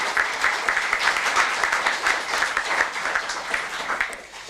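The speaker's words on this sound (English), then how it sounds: "a round of applause, I think, for both those students" Audience applause at a pewter awards ceremony, a steady crowd of clapping hands sustained evenly for several seconds before tapering slightly at the end, with no voices over it.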